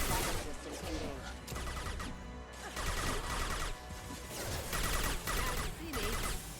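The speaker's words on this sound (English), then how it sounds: "Taking heavy fire." Heavy gunfire fills a Mass Effect 2 battle: dense bursts of shots and impacts roll on continuously, loud and close, with brief lulls between volleys and faint voices underneath.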